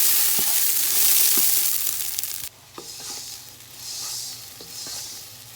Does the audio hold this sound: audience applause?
no